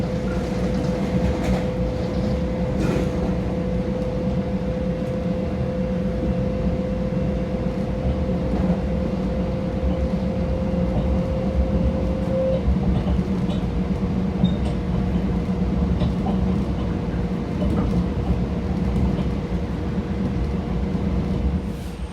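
Onboard a Long Island Rail Road commuter train near Valley Stream during Friday evening rush hour, a continuous rolling rumble with a steady whine through the first half, loud and unbroken with no voices.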